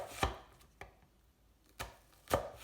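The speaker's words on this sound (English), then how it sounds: "I cut the onion in half, and then I'm cutting it lengthwise." A knife cuts lengthwise through a halved sweet onion on a cutting board, giving four sharp, close chops spaced unevenly across a quiet kitchen.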